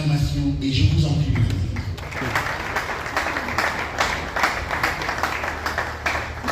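Audience applause breaks out at a launch event for an NGO, a mixed wash of clapping and crowd noise that follows a brief stretch of voices and continues steadily to the end.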